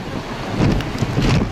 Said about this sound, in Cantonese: 杏花村嘅清晨仍然有強風大雨